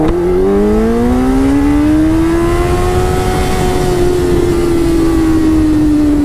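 An inline-four motorcycle accelerates hard, its engine note climbing loud and close, then leveling and easing slightly, with no voices over it.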